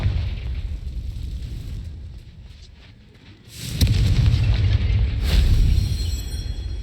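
The Confringo fire spell goes off in Hogwarts Legacy as a deep, loud explosive boom, followed by a second burst. A rumbling low roar carries on between the blasts.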